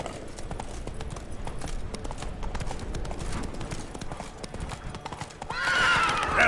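Roach the horse from The Witcher 3 walks with steady, close clip-clopping hooves, and a loud neigh or whinny comes near the end. Faint speech may sit underneath.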